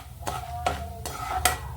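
Ginger and garlic frying in a pan for a tomato curry, a steady low sizzle with four regular scraping strokes of a spoon against the pan, close and clear.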